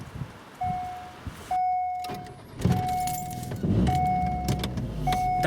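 Inside a Daewoo Nexia 1.5 GLE, a warning chime beeps repeatedly at a steady pace while keys jingle, a door thuds and the cabin rustles, all heard up close.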